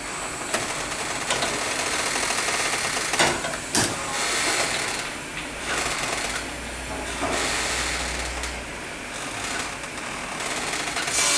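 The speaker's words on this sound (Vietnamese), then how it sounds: "Bây giờ tôi đưa động cơ vào nha" A 380V three-phase electric motor runs after being switched on through a contactor, giving a loud, steady whirring drone with rattling and clicking, close by and without speech.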